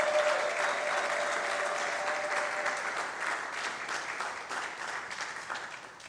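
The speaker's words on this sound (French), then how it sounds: "Sous vos acclamations." An audience applauds at a book launch welcoming the author, steady, dense clapping lasting the whole stretch and slowly tapering near the end, with no speech over it.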